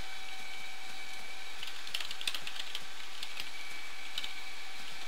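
Keyboard typing during a Minecraft play session, with soft irregular clicks in short bursts, faint and slightly distant, over a steady background hum with no talking.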